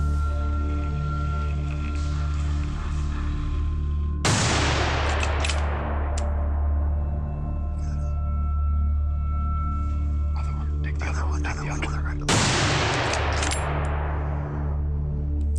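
Hunting rifle shots are fired at wild boar on a driven hunt. Two loud, sharp reports come about eight seconds apart, each with a long rolling echo over a steady low background rumble.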